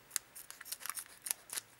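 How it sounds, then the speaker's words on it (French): Scissors snip open a Pokémon booster pack in a quick series of crisp, close cuts and rustles. "J'ai pris ma paire de ciseaux, voilà, pour pas les abîmer"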